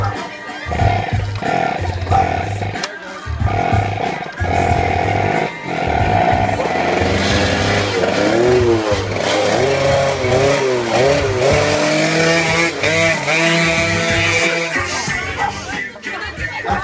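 Motorcycle engine revving loudly and continuously with rising and falling pitch sweeps, close by, amid background commotion before a crash into a swimming pool.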